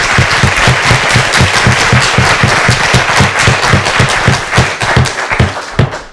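Loud, dense applause from an audience at a Tampa city council meeting, steady rapid clapping sustained throughout and thinning slightly near the end.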